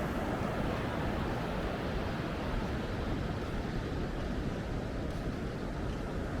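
Sea waves wash steadily onto Non Nuoc beach on an overcast morning, a continuous, full broadband roar of surf with no distinct breaks and no voices.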